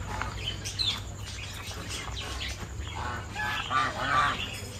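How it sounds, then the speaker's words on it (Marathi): Chickens roaming loose outdoors at a seafood eatery in Shrivardhan, Konkan, give scattered squawky clucks and calls, several birds heard at moderate distance, with a louder cluster near the end. "कोंबड्या बाहेर आहेत."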